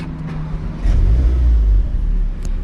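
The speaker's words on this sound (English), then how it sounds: "That's the engine starting." A 2016 Audi TT S with a 310-horsepower engine starts up: a deep low rumble swells suddenly as the engine catches, holds for about a second, then settles into a steady close idle.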